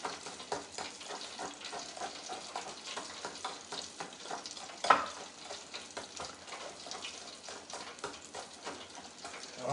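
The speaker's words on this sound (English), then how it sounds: "So I'm doing this with a whisk." A whisk beats a mixture in a bowl for creamy homemade potatoes, producing a faint, rapid, continuous scraping and ticking rhythm with one sharper knock midway.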